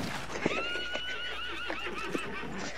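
A horse whinnies in the Red Dead Redemption 2 video game, one long rising and falling neigh near and clear, with a few soft hoof clops in the background and no talking.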